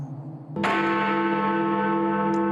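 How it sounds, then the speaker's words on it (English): A church bell tolls the hour with one deep, hollow strike that rings out loudly and hangs in a long sustained hum in a radio play of A Christmas Carol. "He spoke before the hour bell sounded, which it now did with a deep, dull, hollow, melancholy one."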